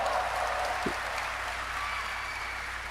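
Live crowd at Gamescom, a dense continuous wash of applause and cheering from a large audience, steady and loud throughout.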